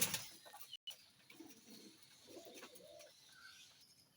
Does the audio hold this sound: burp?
no